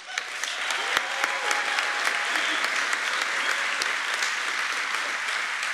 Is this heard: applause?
yes